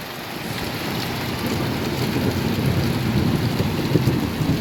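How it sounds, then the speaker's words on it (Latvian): Thunder rolls in a rainstorm over a garden with a pond beside a hundred-year-old house, a loud, continuous low rumble mixed with the steady wash of rain. "Pērkons rājās."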